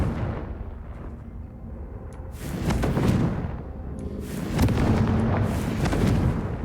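Fire spell explosion cast in Hogwarts Legacy, a loud burst of roaring flame swelling around the three-second mark, then a second fiery blast near four and a half seconds, with a crackling rumble sustained between them.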